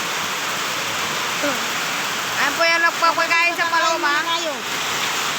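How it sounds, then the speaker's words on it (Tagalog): Steady hiss of rain falling in the background while a person talks over it partway through. "Umuulan pa."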